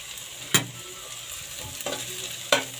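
Cucumber pieces stir-frying in a pan for a palya with curry leaves, soft steady sizzling broken by a few sharp spatula scrapes and clacks, close up with no voices.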